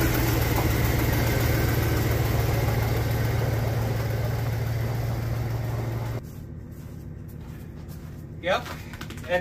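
A Jeep engine idling in 20-degree cold, a steady low rumbling drone that drops to a quieter idle about two-thirds through, followed by a couple of faint knocks.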